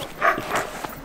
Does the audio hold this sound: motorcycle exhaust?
no